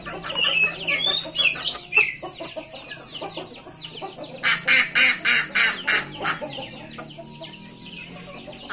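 Roosters, including fighting cocks, and hens cluck and crow in a noisy yard, with a rapid burst of loud harsh calls midway and other fowl chattering around.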